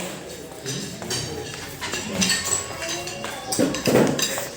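Bowls and spoons clink together at a family dinner at home, a scatter of light, irregular taps and chinks with voices talking over and around them.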